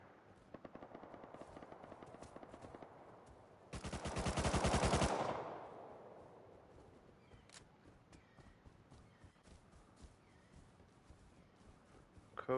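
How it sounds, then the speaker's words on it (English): Pistol gunfire in the online survival game Rust Console Edition during a raid weekend event, a fast burst of sharp shots around the four-second mark, loud and close, with scattered quieter pops and game sounds before and after. "Those pistols are good."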